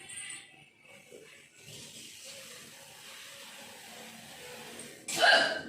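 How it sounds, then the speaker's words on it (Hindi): A woman gives a single strong hiccup near the end, sharp and close, after several seconds of soft room noise with no clear talking. "बहुत ही तेज वाली हिचकी जो है ना,"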